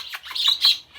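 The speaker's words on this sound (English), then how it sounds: "Such a good bird." A pet bird in a home aviary kept with zebra finches and crested birds gives a few short, bright squawks and chirps in quick succession, close and fairly loud, with no talking.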